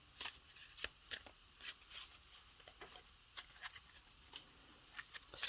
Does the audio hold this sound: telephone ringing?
no